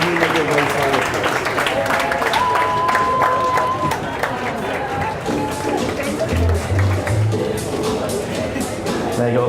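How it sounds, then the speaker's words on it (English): An audience at an indoor skydiving competition bursts into sustained, dense applause with some cheering, loud and steady throughout, with faint tones and crowd noise underneath. "There you go, a big round of applause there for our audience."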